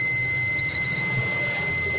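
A multimeter's continuity test sounds a continuous high-pitched electronic beep steadily without a break, over a faint low hum.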